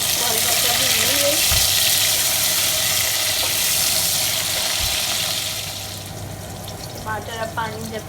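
Steady loud sizzling of chopped onions and tomatoes frying in a pan for chicken curry, a continuous hiss that eases later, with a voice talking over it near the end.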